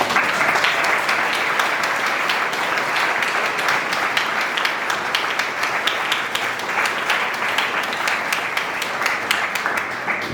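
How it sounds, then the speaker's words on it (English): A graduation audience at the Daoist Traditions College of Chinese Medical Arts gives the standing faculty a long, loud round of applause, sustained rapid clapping from many hands throughout. "can we all welcome them with a round of applause"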